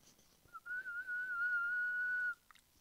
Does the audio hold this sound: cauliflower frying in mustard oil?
no